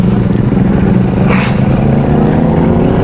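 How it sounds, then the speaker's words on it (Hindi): A Kawasaki Ninja 400 with an SC Project exhaust rumbles loud and steady up close, its deep exhaust note droning throughout. "बहुत ज़्यादा लाउड है एग्जॉस्ट का नोट"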